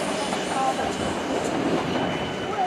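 A British Rail Class 455 electric train runs through Clapham Junction station with a steady, fairly loud rumble and rolling wheel noise that holds through the whole short stretch.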